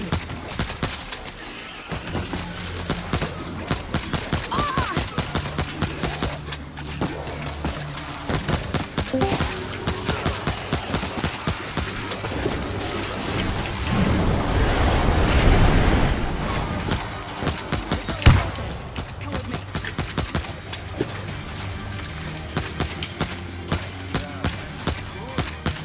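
Dense, sustained gunfire in World War Z Aftermath at an ammo dump, with rapid shots layered over game music and a heavy burst around the middle, and no voices.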